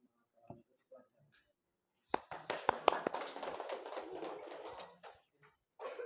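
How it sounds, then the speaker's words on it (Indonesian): A small group of students claps in a classroom after a group presentation, a brief scattered burst of hand claps that swells for a few seconds and then dies away, fairly faint and not very lively. "Tepuk tangannya kurang meriah untuk kelompok 2."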